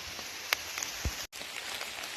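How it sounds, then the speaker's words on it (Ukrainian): Rain falls steadily through a forest in a broad, even hiss, with a few sharper drop hits and one low thump standing out near the middle. "А дощ все набирає сили."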